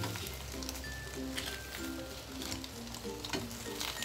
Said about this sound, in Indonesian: kita panggang di atas kompor seperti ini